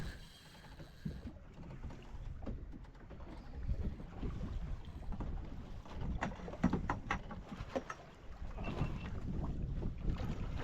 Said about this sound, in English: really big wind today